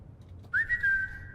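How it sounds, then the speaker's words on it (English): In Skyrim, a person gives a single short whistle, a clear high tone that slides up and then holds steady for under a second over faint background. "I will whistle at you."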